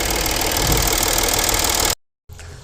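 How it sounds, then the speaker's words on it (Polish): An Audi A6 C6 with a 3.0 TDI diesel engine idles close by, a steady, dense rumble that cuts out abruptly for a moment near the end before resuming. "to tak chodzą te silniki nic, dosłownie nic nie czuć w samochodzie, żeby silnik pracował"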